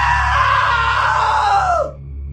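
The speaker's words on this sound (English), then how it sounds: "Now that was a great scream." A man's scream from the video game What Remains of Edith Finch, as Barbara's father slips into a table saw. It is one loud, sustained, strained cry lasting about two seconds, then drops and trails off.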